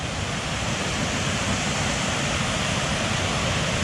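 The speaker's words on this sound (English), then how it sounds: "Waterfall." A Yorkshire waterfall roars as a dense, steady broadband rush, loud and close, with no break or voices across the span.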